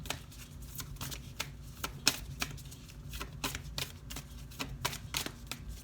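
Moonology oracle cards by Yasmin Boland are shuffled by hand close up, a quick irregular run of soft papery slaps and riffles with no talk.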